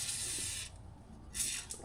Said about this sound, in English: Spray this one too.